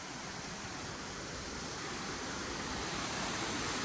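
Continuous hiss of running water close by, steady and fairly loud with no voices.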